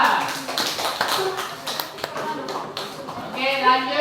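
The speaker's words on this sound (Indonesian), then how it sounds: "beri tepuk tangan untuk kelompok 2" A classroom of students claps for a presenting group, with scattered uneven hand claps and taps mixed with chatter and voices that grow more prominent near the end.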